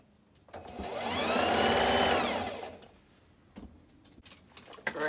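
A sewing machine stitches fabric for a homemade clothes hamper, running in one loud continuous burst of about two seconds that rises and falls, followed by a few clicks and handling knocks.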